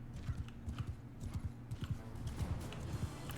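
Cavalry horses in a strategy video game gallop in a rapid, continuous patter of hoofbeats, steady and fairly distant, with no talk over them.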